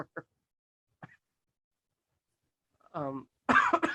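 A few short, sharp coughs close to the microphone, spaced apart, followed by a voice and then a harsher burst.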